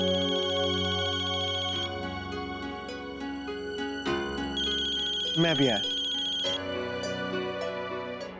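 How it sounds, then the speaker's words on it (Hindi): A phone ringtone plays a repeating electronic melody with steady tones, while a voice speaks briefly over it. "ये फोन है या गले की घंटी, जब देखो बजती रहती है।"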